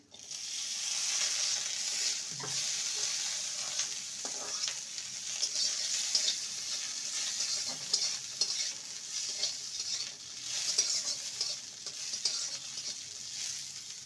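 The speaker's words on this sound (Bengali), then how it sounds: "বাদাম আর কিশমিশ ভাজা হয়ে গেছে" Nuts and raisins crackle in ghee in a kadai, a continuous close sizzle for the whole stretch punctuated by light stirring taps and scrapes, with no one talking.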